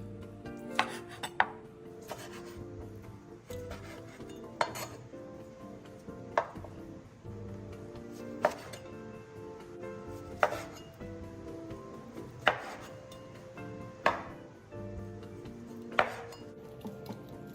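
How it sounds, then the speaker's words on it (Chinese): Boiled pork belly being cut into small cubes on a cutting board, a series of sharp knife thuds at an uneven, unhurried pace, each separate and close, with no talking. "清洗后的花肉沥干水分，再用厨房纸巾抹干，然后切成2至3公分见方块状。"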